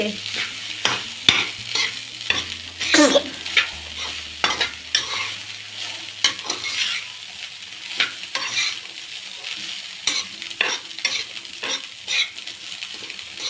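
Egg rice being stirred in a hot pan, with a steady sizzle and repeated scraping strokes of a spoon across the pan over about fourteen seconds, close and fairly loud, with no talking.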